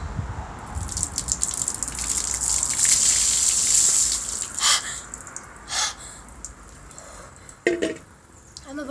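A bucket of ice water pours over a person in one loud, sustained gush lasting about two seconds, followed by sharp gasps and heavy breathing as the splashing fades.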